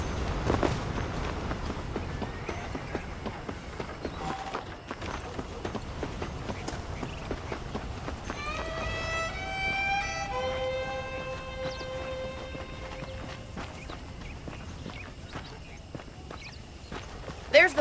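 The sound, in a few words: horses walking with hoof clip-clop in video game Red Dead Redemption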